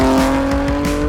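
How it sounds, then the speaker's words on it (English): Exhaust note of a car with an S58 engine fitted with ARM stainless steel downpipes: a loud, close, steady droning growl with a strong humming tone, held without talk for about a second. "an exotic exhaust sound that transforms your driving experience"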